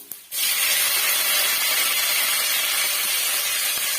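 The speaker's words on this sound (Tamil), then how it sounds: "வரமிளகா சேர்த்துட்டு அது கலர் நல்லா சேஞ்ச் ஆகிட்டு வரணும் அது வரைக்கும் நம்ம வறுத்து விட்டுக்கலாங்க" Dried red chillies fry in hot oil for rasam, a sudden loud, dense sizzle that starts right away and hisses on steadily to the end, close by and with no talking.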